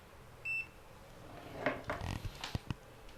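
A multimeter's continuity buzzer gives one short, clear electronic beep while wiring an air conditioner and water heater, followed by clicks and knocks of handling the probes and tools.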